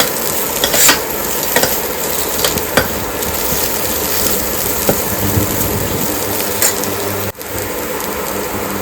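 Onions frying in a pan for a potato palya, a steady loud sizzle with periodic stirring scrapes and clicks, a short dropout near the end, no voices.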